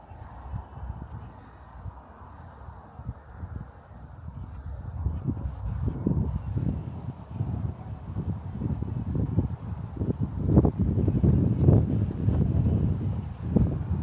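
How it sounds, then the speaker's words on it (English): Gusty wind on a homestead buffets the microphone with low rumbling bursts that grow stronger and more frequent, close and rough throughout. "Maybe I should get out of the main wind."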